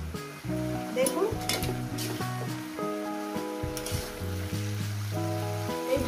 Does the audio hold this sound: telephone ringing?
no